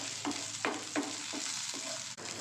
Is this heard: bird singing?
no